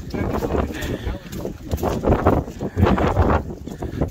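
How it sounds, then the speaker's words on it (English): Gusty wind buffets the microphone in uneven rumbling bursts at the Blue Lagoon in Iceland, with a person talking faintly through the noise. "Windy."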